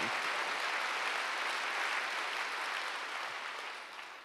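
A church congregation applauds, a steady wash of many hands clapping at a moderate distance that fades slightly toward the end.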